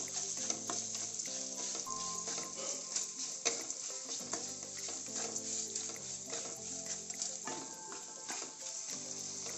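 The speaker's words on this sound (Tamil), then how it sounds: "பாருங்க, நம்ம ஆனியன் நல்லா வதங்கி பொன்னிறம் ஆயிடுச்சு." Onions sautéing with salt in a pan for a Punjabi dhaba-style mutton gravy, a steady close sizzle with frequent scraping stir strokes throughout, no voices.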